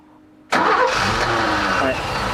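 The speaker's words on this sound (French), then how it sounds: "Vas-y, on redémarre un coup pour voir." Ford Granada Coupe V6 engine cranking and catching abruptly, then idling loudly and roughly close by.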